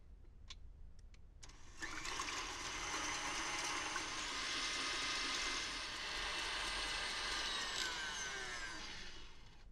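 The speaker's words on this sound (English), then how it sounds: "As I'm whipping the whites, I'll gradually add 1/4 cup of sugar." An electric mixer starts with a few clicks and then whirs steadily, whipping egg whites while sugar is gradually added, a continuous close hum that eases off at the end.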